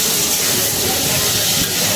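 Dried shrimp and potato sautéing with spices in a pan, for a dish with taro stolons, give a steady, loud, close sizzle and hiss that continues without a break for the whole stretch, with no voice over it.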